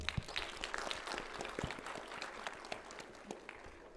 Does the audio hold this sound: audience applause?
yes